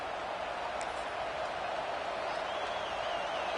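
A stadium crowd roars during a third-down play in the college football video game NCAA 26. The sound is a constant, dense wall of cheering and noise at an even level, with no clear breaks.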